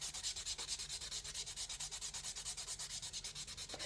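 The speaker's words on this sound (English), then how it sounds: "I'm just going to take the shine off with the buffing block." Buffing block rubbed back and forth over fingernails to take off the shine, a fast, even scratchy rhythm of about eight strokes per second, close and soft, with no voices.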